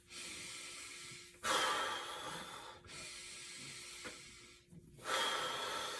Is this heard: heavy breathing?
yes